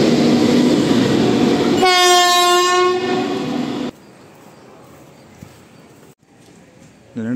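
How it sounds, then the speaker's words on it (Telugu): A railway locomotive running light, engine only with no coaches, passes through a station and sounds a loud, sustained harmonic horn blast for about two seconds over heavy rumbling. The rumble then drops to a quieter background. "ఓన్లీ ఇంజిన్ వెళ్తుంది"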